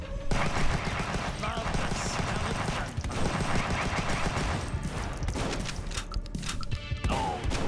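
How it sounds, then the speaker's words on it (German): Heavy shotgun blasts and rapid gunfire from the run-and-gun video game Huntdown, dense and continuous over a busy game soundtrack with crashes and thuds throughout. "Oh, die Schrotflinte hat dem ja ganz schön mächtig gerade die Buchsen voll gemacht"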